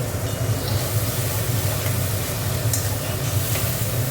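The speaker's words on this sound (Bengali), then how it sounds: "মশলাটা একটু কষাবো, এটাকে ভালো করে কষে নিই।" Cumin, chilli and turmeric with salt fry and sizzle steadily in a pan for a fish curry, a continuous broadband hiss with low bubbling underneath and no voices.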